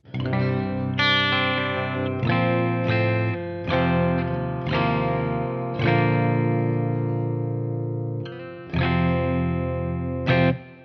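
Loud electric guitar chords on the bridge pickup at full volume are struck and left to ring, one after another with short gaps, bright and full with a slight shimmer.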